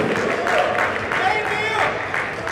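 An alumni convention audience in New Jersey applauds a committee president, with steady crowd clapping running under an announcer's amplified voice and a ringing, tonal hum from the PA system.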